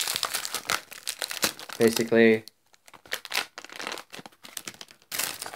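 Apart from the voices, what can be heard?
smack balloon plastic crinkling as it expands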